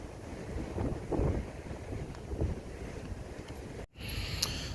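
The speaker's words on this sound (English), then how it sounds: "the wind is serious out there" Strong gusty wind buffets a hillside campsite in a storm, a steady roaring rush with surging gusts, close and loud, broken by a short dropout near the end.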